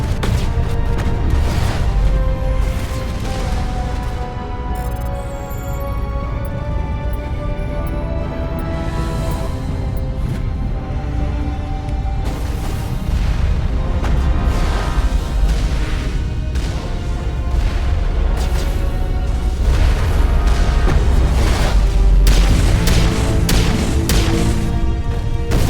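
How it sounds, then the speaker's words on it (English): Turrets open fire during a Mass Effect battle, with dense, loud bursts of gunfire and crashing impacts layered over a steady game soundtrack for the whole stretch. "let's activate the turrets!"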